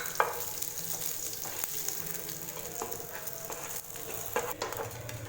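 Dried red chillies and curry leaves fry in hot oil for an onion chutney, a steady close crackling sizzle with sharper pops and spits scattered throughout.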